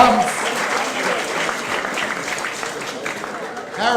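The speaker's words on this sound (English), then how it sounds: "give him a round of applause." A comedy club crowd claps and cheers for a stand-up comedian in sustained, dense applause that carries on steadily from start to finish.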